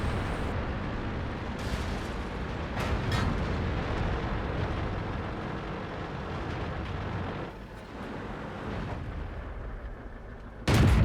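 M41 Bulldog light tank battle on the Airfield map, with heavy rumbling combat noise throughout and several booming cannon shots and impact bursts spaced across it, one sharp loud blast at the end.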